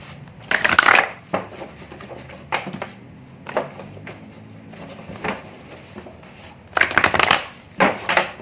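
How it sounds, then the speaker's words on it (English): Tarot cards from the Voyager deck being shuffled by hand, heard as sharp riffling bursts near the start and again near the end, with softer scattered card taps and slides in between and no talk. "One more shuffle."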